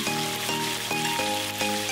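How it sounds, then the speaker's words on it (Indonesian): Chicken pieces fry with leaves and green chilies in hot oil until crisp, in the style of Acehnese ayam tangkap. A steady, dense sizzle runs throughout, partly masked by a sustained tonal background. "Teruskan menggoreng selama 3 menit hingga semuanya matang dan daun-daunnya menjadi garing."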